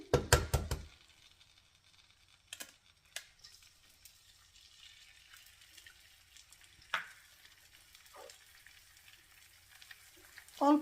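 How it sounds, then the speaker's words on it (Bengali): An egg hits hot oil in a pan for a Chinese-style dish and is scrambled, giving a loud burst of sizzling at first. The sizzle fades to a quiet crackle with sparse utensil knocks and scrapes. "একটা ডিম আমি হচ্ছে স্ক্রাম্বল করে নিব তো সেটা আগে দিয়ে দিচ্ছি"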